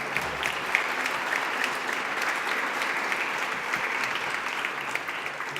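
An audience applauds a laureate at a university awards ceremony, dense sustained clapping from a full hall at steady loudness throughout.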